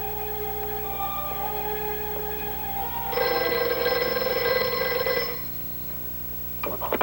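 A telephone bell rings in a radio drama, a steady repeated ring standing out loudly for a couple of seconds over a quiet background hum, then fading to silence with a faint clatter at the end.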